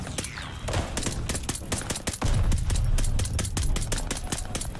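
Rapid gunfire in the shooter game Call of Duty: Vanguard rings out in close bursts of sharp shots, with heavier booms and low rumbling in the second half.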